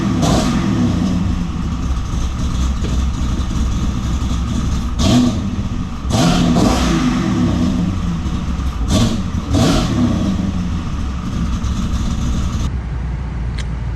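Hyundai Genesis Coupe with an LS engine swap, loud and close, idling roughly and then blipped through several sharp revs in quick succession before settling, with no talk.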